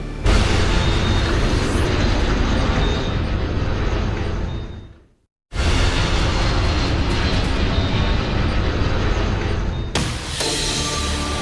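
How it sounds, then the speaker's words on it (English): A small plane after a mid-air collision over San Diego in 1978 spirals toward the ground. A loud, dense roar fills the scene, cuts out briefly midway, then returns just as loud. "An NBC News crew captures a small plane spiraling to the ground"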